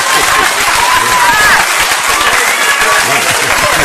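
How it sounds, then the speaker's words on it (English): Sustained audience applause fills a podcast studio, a dense steady wash of clapping with faint tonal sounds threading through it. "We're going to let that applause roll out for a second."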